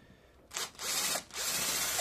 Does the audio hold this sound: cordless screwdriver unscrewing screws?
yes